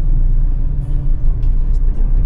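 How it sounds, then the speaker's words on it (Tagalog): Steady road traffic with tricycles passing through Daet town in Camarines Norte: a continuous low engine rumble with occasional faint higher whines and brakes, close and fairly loud, with no voices. "Daming nagpapasadang tricycle."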